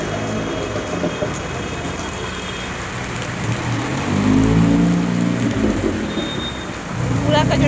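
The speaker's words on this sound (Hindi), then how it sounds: "और अभी भी इतनी तेज बारिश हो रही है" Steady heavy rain hisses across the whole clip, swelling louder midway, with a voice talking faintly underneath.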